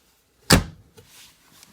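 An RV storage compartment door closes with a single sharp, close thump, followed by faint handling noises.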